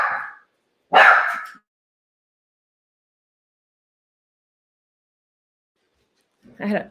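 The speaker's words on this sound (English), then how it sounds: "My dogs are barking." A couple of short dog barks, one fading and another louder, then a long silence before a burst of more barking.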